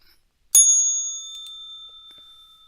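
One bright metallic bell strike rings out sharply near the start, then its clear tone hangs and slowly decays in otherwise quiet surroundings.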